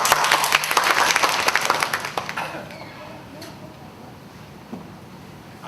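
Workshop attendees in Thailand break into applause after a lecturer's statement: close, rapid clapping for about two seconds that tapers off into quiet room tone, with a stray clap or two later.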